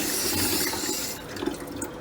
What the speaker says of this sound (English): Just put a little bit of water inside the basin and just kind of swirl it around.